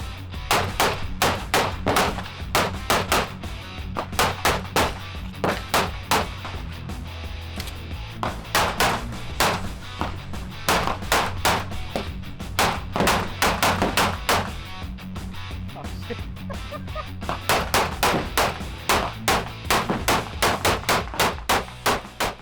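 Rapid strings of pistol shots from a Sig Sauer P365X with a Holosun 407K red dot, fired at an outdoor range, loud and close, in several bursts separated by short pauses.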